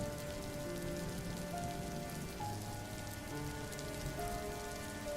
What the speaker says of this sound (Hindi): बरसात अपनी पूरी ताकत से बरस रही थी।